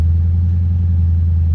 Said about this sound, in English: Obviously the exhaust is nice and loud